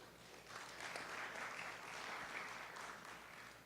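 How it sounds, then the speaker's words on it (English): Audience applause at a public meeting about a parking plan, a steady patter of clapping hands from a modest crowd lasting several seconds at moderate, even loudness. "Just give them a round of applause if you would."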